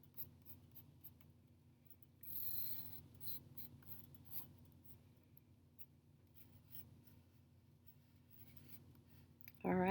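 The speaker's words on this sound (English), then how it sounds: "I'm going to darken these lines for you" Pencil lines are darkened on paper while drawing leaves. Quiet, close scratching strokes come in short repeated bursts, with a busier stretch of rubbing early on.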